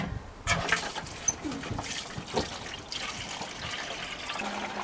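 Tap water runs steadily into a plant sprayer bottle being topped up for watering baby succulents, a continuous splashing trickle with a few light knocks and clunks of handling.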